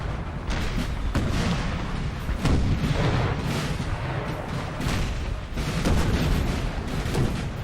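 Napoleonic cannon fire in Napoleon Total War, a continuous rumbling barrage of deep booms from many guns rolling on without pause under a dense battle din.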